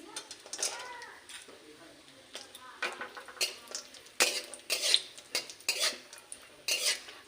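Metal spatula scrapes and clinks against a pan in irregular strokes as raisins are lightly fried, with a faint sizzle underneath, close up.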